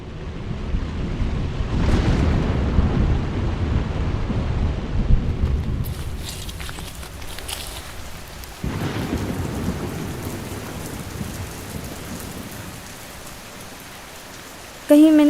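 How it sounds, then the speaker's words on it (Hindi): Heavy rain pours steadily with rolling thunder booming loudly near the start and again midway, a continuous dense downpour with no talking over it. "ये बारिश को भी अभी होना था।"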